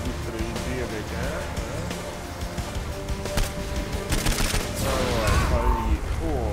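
Rapid video-game gunfire from Saints Row IV crackles in dense bursts under a busy mix of game sounds, while people talk over the action throughout.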